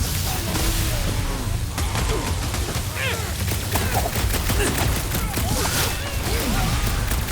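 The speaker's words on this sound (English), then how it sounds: "They're bringing out the big guns! Trust me! Those Nova cannons will take your head off!" Heavy gunfire from Nova cannons in the Marvel's Guardians of the Galaxy video game crackles in dense, loud bursts alongside impacts and combat chaos, with shouting characters' voices in the thick of the fight.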